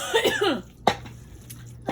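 A couple of short coughs, the first a throaty burst and a second sharp one shortly after, close to the listener.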